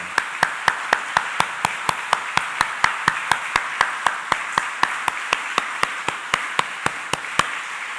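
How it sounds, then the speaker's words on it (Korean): A church congregation claps hands together in a slow, even unison beat, sharp synchronized claps repeating roughly every third of a second over a hushed room. "박수 한번 하십시다."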